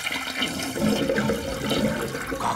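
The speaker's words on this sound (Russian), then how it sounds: "Смывать нужно так." A toilet flushes in a short, steady rush of water, fairly close and alone with no voices.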